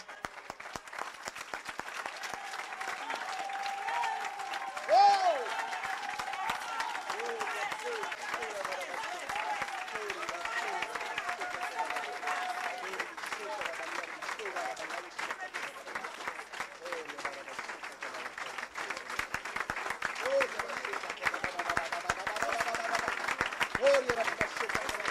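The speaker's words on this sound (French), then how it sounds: "Ah, il mérite de l'acclamation, frère." Steady applause and acclamation from a church congregation during a French sermon on the end times, a dense continuous wash lasting throughout, with a voice speaking over it.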